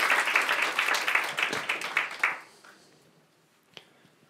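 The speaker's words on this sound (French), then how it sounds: "Vous devez m'applaudir là, normalement." A small audience claps for a couple of seconds, then the applause fades out into near silence with one last stray clap.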